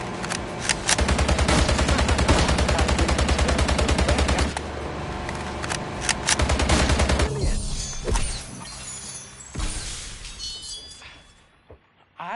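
Gunfire in The Grand Tour Game: loud rapid bursts of automatic fire with dense rattling shots and shattering impacts. The shooting breaks off into scattered shots and debris, with brief game voices underneath.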